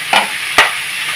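Bitter gourd softening in hot oil in a pan: two quick spatula scrapes over a constant bright sizzle, close up and brief, no voices.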